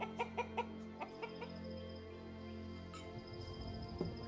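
Hens in rural Guatemala cluck in a quick series of close, distinct calls, then more scattered clucks follow over a steady background hum with faint insects.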